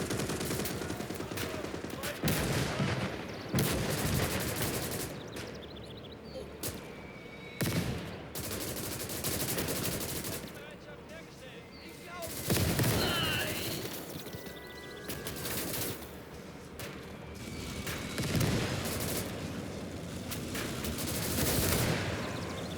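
Sustained machine gun bursts and heavy explosions in Call to Arms: Gates of Hell World War II combat, loud, dense fire in repeated waves over a long stretch, with occasional louder blasts.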